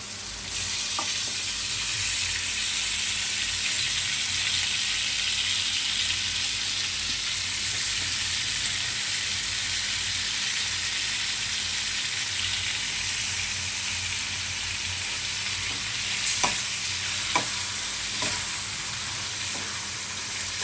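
Washed chicken fries in a generous amount of oil for Telangana-style country chicken, giving a steady, loud, continuous sizzle throughout, with a few faint stirring knocks near the end and no voices.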